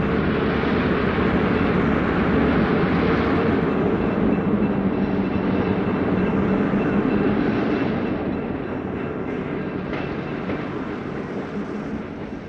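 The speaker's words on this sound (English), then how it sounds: "look at the eastbound Santa Fe Chief at some locations that have either changed or disappeared altogether" The eastbound Santa Fe Chief passenger train rushes by in a loud, dense, continuous roar of wheels and engines that eases off slightly toward the end, with no voices.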